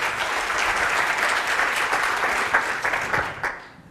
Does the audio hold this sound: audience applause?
yes